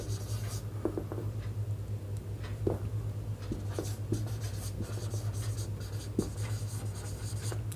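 Pen or chalk writing on a surface, faint scratchy strokes with small taps at irregular intervals over a low steady hum, no talking.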